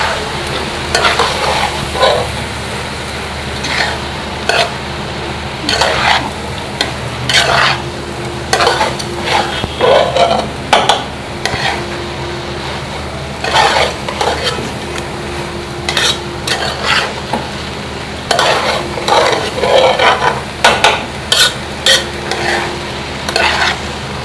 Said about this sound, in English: So once that is in, you stir away.